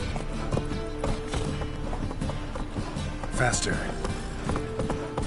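Roach the horse from The Witcher 3 gallops in steady, rapid hoofbeats over layered game sound, while someone speaks briefly over the riding.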